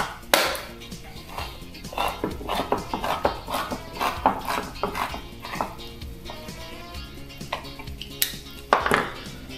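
A can of tomato sauce is opened in a home kitchen during borscht cooking: a close, irregular run of sharp metallic clicks, scrapes and clanks with a few louder knocks near the end.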